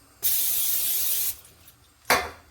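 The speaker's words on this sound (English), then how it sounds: "going to spray it again" Two bursts of cooking spray hiss close by onto a pan: one long spritz lasting about a second, then a short quick spray after a pause.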